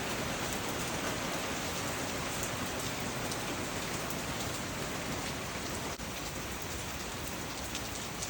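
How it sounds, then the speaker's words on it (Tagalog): Steady heavy rain in Windsor pouring onto surfaces, a dense, even hiss that stays constant and close throughout with no voices. "Ang ulan dito sa amin sa Windsor ngayon."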